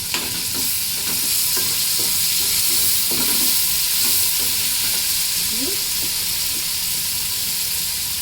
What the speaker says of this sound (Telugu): కడిగి పెట్టుకున్న కరివేపాకు వేసి వేస్తున్నాను